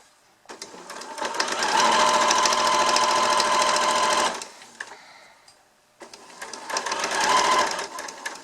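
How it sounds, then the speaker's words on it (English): Close, loud sewing machine stitching back and forth over elastic at the corner of a fabric face mask, two steady bursts separated by a short pause, with no voices. "I'm just going to back stitch a few times over the elastic."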